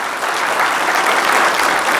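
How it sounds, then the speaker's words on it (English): Audience applause at a March 2023 employee and officer of the month ceremony, a dense, steady wash of many hands clapping that fills the whole stretch at close range with no talk over it. "Let's give her a round of applause."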